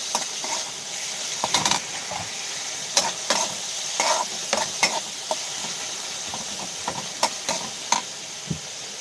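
Dried anchovies hit a hot frying pan and sizzle steadily, with scattered crackles, pops and stirring scrapes close by, and no voices.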